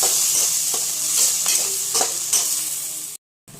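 Pav bhaji masala being stir-fried in a hot pan for paneer bhurji: a steady loud sizzle with repeated scraping strokes of a spatula, ending abruptly.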